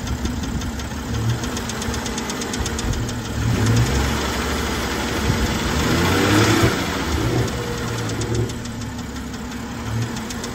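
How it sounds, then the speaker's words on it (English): An idling car engine runs steadily with a rapid, regular metallic ticking on top, swelling slightly in loudness midway before settling back. "These motors are notoriously loud for ticking, especially when you don't run an engine cover"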